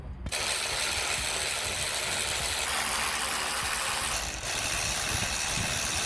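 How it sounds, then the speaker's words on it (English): A ratchet removes the throttle housing bolts on a 2007 Audi A6 2.0 TDI, giving a continuous, close, loud run of mechanical clicking that lasts several seconds with only a short dip. "I've just took the 3 bolts off the throttle housing."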